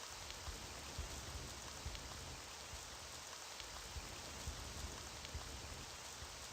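Steady rain falls in a video game, a dense even hiss of drops on surfaces that runs unbroken and fairly quiet throughout, with no voices.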